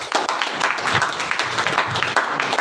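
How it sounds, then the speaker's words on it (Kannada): An audience claps steadily at a motivational business seminar, a dense, continuous wash of many hands at close range that holds for the whole stretch, with faint voices under it. "ಚಪ್ಪಾಳೆ. ಇವ್ರಿಗೆಲ್ಲ"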